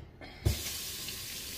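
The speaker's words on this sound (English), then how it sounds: "let's add some water in here." Tap water pours into a container to mix a quick floor wash, starting with a short splash and then running as a steady, close, moderately quiet hiss.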